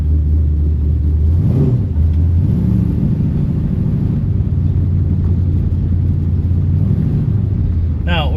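A 1964 Plymouth with a big-block Mopar V8 pulls away onto gravel roads, its deep engine rumble steady and close, with a few rising revs as it gets moving.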